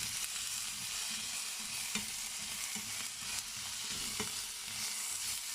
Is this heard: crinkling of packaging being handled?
no